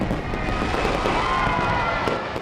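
New Year's midnight fireworks and firecrackers in Manila crackling and booming continuously, a dense roar of bursts and pops with a loud, rumbling low end.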